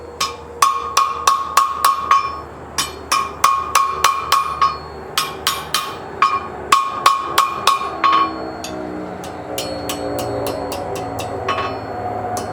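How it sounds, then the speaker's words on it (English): Hand hammer striking hot steel while forming a blacksmith's drive hook, a rapid series of sharp ringing blows in bursts with short pauses, loud and close, tapering off into quieter shuffling near the end. "I'm going to come back over here and hammer back down in, bracing against my leg."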